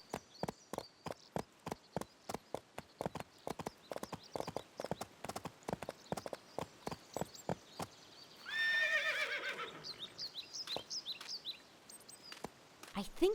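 Horse in the Barbie Horse Adventures: Mystery Ride video game, with rhythmic hoof clip-clops and a loud whinny midway, followed by more hoofbeats; a voice speaks briefly.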